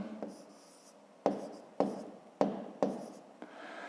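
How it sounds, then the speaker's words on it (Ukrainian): Chalk or marker strokes on a board during a 5th-grade maths lesson: a series of sharp taps and short scratchy strokes, close and clear, with brief pauses between them. "Давайте я на ньому напишу."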